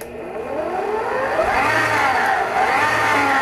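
A stand mixer beats dough with its paddle. The motor gives off a steady whine that rises and falls in pitch while the mixing thumps along underneath, with no talking.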